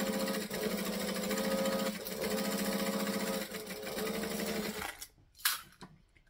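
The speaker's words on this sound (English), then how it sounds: "Starting at the raw edge, we're going to stitch it." A sewing machine runs in steady bursts close by, stitching fabric from the raw edge of a vinyl project, its motor whirring with brief pauses before it stops and a few light clicks and handling noises follow.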